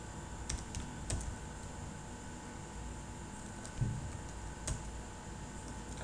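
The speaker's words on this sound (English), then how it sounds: "so I have to type hbox" Someone types on a computer keyboard, a quiet run of light, uneven key taps with a few sharper clicks against faint background hiss.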